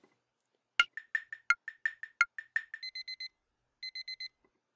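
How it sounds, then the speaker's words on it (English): Kitchen timer alarm in the PolyNome metronome app: a run of sharp ticking clicks leads into two bursts of rapid, bright electronic beeps, four quick tones each, clean and alone. "We'll use the kitchen timer."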